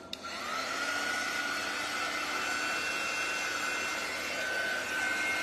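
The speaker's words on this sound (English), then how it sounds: "I'm going to hit this side with the dryer real quick" A handheld dryer blowing on a craft transfer: a steady, close whooshing roar with a whining motor tone, starting with a brief click and running evenly throughout with no talk.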